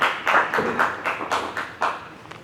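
A few people clap at a school district board meeting: a short run of about eight sharp, fairly close claps in an uneven rhythm that fades away.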